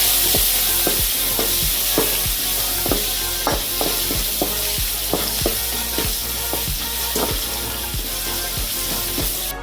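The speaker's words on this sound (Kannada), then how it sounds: "ಹಾಕ್ತಿದ್ದಂಗೆ ಮೆಣಸಿನ್ಕಾಯಿ ಹಾಕೊಳ್ಳಿ. ಸ್ವಲ್ಪ ಫ್ರೈ ಮಾಡ್ಕೊಳ್ಳಿ." Green chillies fry in hot oil for tomato tokku, a loud, dense crackling sizzle with sharp pops and a spatula scraping at an uneven rhythm, close and continuous throughout.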